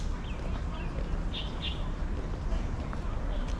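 Birds chirp in short bright bursts, a pair of clear calls near the middle, over steady outdoor background noise at the Taipa Houses Museum in Macau.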